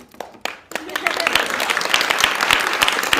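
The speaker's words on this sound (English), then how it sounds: "They're applauding murdering innocent kids inside the womb." An indoor audience breaks into applause, starting with a few scattered claps and building into sustained, dense clapping. A voice is heard underneath the clapping.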